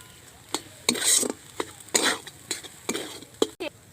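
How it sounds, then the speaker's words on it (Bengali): A semolina and potato mixture with cumin powder is stirred in a pan for a crisp snack: a string of close scraping, clattering strokes with a faint sizzle underneath, alone without talk. "দিয়ে আবার ভালো করে নেড়ে চেড়ে নেব"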